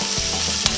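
Onion sautéing in oil with golden-brown garlic for garlic shrimp, a continuous close sizzle with a brief stir partway through.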